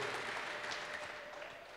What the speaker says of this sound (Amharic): እልልታ ጭብጨባ ለእግዚአብሔር ክብር ይሁን